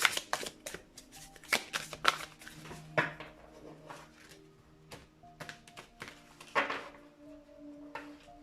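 Tarot cards being shuffled and drawn, close up, as bursts of riffling and crisp taps and slaps with short pauses between them, soft overall.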